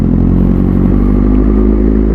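A 2012 Honda CBR 1000RR 20th Anniversary sport motorcycle's engine runs loud and close, a steady smooth drone with light mechanical clatter and no voices.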